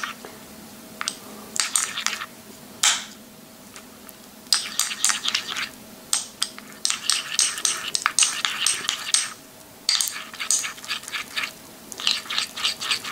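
A small teaspoon stirs a cream mixture inside a small jar, making quick, irregular clinks and scrapes against the glass in dense bursts with brief pauses, close and clear with no voices.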